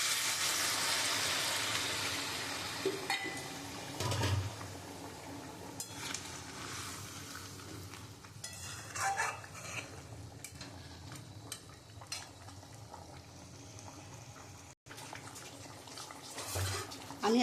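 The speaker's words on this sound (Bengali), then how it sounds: "আর আমি একটু গরম জল দিয়ে দিচ্ছি।" Hot water goes into a pot of slowly cooked mutton in light spices, a softening hiss and bubbling wash that later settles into quieter simmering with faint clinks and stirring sounds, with no clear talk.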